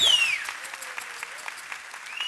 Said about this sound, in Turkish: Bir kocaman alkış alalım mı ilk önce?